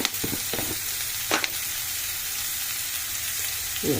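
Bitter gourd pieces tossed with chili powder fry in a pan, giving a low, even sizzle with a few brief stirring scrapes near the start and a soft clatter at the end.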